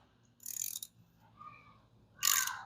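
A socket ratchet working a bolt on a 1947 Ford COE truck during an engine and transmission swap, heard as two bursts of rapid metallic clicking separated by a quiet pause, close and clear with no talking.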